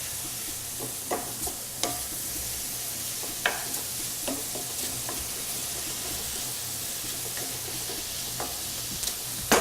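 Mushrooms fry in oil in a pan with a steady sizzle and hiss, broken now and then by sharp scrapes and taps of a utensil stirring, at moderate level with no voices.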